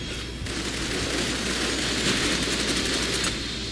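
Gunfire rattles in the Snowbreak video game on PC, a sustained burst of rapid automatic shots that fills most of the clip at steady, loud volume over game ambience, with no talk.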